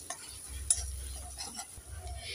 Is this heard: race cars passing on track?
no